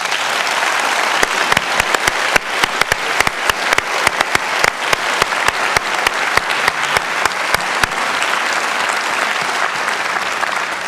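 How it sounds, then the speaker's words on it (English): Audience at a Purdue University conversation event applauding students, a dense, steady wash of clapping from a large crowd lasting throughout, with individual sharp claps standing out near the front. "a nice round of applause for the students today"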